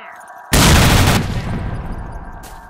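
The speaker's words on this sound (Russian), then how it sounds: "Ложись, граната!" A grenade blast in S.T.A.L.K.E.R.: Shadow of Chernobyl at the Chernobyl NPP, a sudden loud close boom that rolls into sustained gunfire and rumbling debris, dense and noisy throughout.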